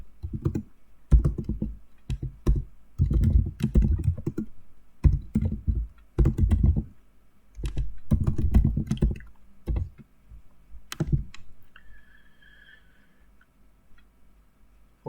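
Keys on a computer keyboard clack in uneven bursts as an expression is entered, close and fairly loud, with pauses between runs of keystrokes and no one talking.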